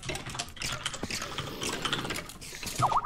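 Quick clatter of typing on a computer keyboard, close and fairly quiet, dense irregular key taps running continuously for a few seconds with no talk.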